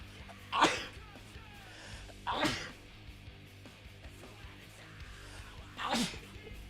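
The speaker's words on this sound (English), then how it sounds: "I'm gonna sneeze." A person sneezes three times in a dusty room, with sharp, loud bursts spaced a couple of seconds apart against quiet background hum.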